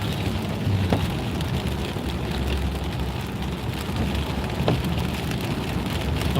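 Steady rain falls on a car during a drive, a constant loud hiss and patter over low road rumble with a couple of faint knocks.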